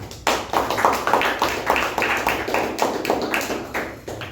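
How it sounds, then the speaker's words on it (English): A small group at a meeting claps in a fairly even rhythm, each clap distinct and close, continuing for about four seconds. "Let's give a huge round of applause for that wonderful table topic session."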